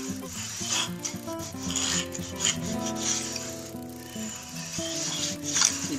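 Router plane with a 1/4 inch cutter shaving wood, making soft, repeated scraping and rasping strokes up close at low volume, with no talking.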